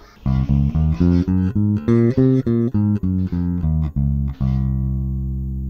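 A sequence of sustained bass guitar notes in a low register, playing the C Locrian mode one after another at a steady pace, with the last note ringing out longer.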